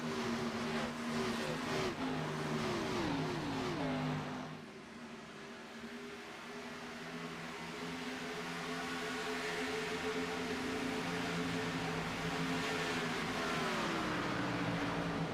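A race truck engine in an iRacing simulation of an Xfinity Series race at Atlanta drones and revs with shifting pitch, steady and fairly close, with no talking.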